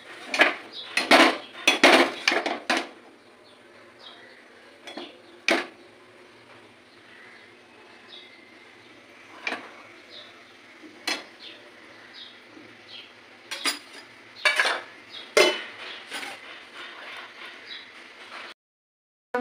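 Pans and utensils clatter and clink while hot mixed chow mein is plated in a Kolkata street-food kitchen, sharp irregular metallic knocks in bursts close by over a steady background hiss, with no talking.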